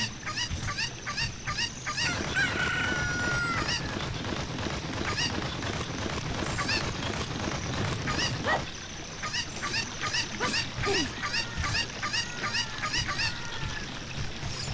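Chicken squawks and clucks from The Legend of Zelda: Ocarina of Time come in short bursts over a constant, busy game soundtrack, loudest early, then sparse, with no voices.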